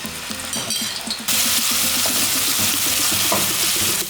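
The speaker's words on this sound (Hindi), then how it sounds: "आइए अब हम इसका तड़का तैयार करते हैं।" Loud, steady sizzling as ginger garlic paste hits hot oil for a tempering, a sharp hiss that jumps up abruptly and holds, with faint stirring clinks underneath.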